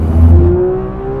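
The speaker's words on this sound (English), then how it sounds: "The engine's very snappy, very free revving." A Porsche GT car engine revving while driving, a loud, tight engine note that rises sharply and then eases back off in a single short burst.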